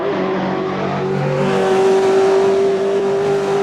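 A turbocharged car engine revs steadily with a loud, close, sustained droning tone that climbs slightly and holds, with no talking.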